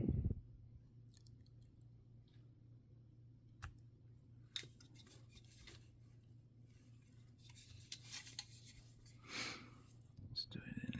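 Quiet, sporadic scraping and cutting clicks as a blade slices a plastic part from a 1/48 MegaScale Zaku II Gundam model kit, over a low steady hum with faint movement noises.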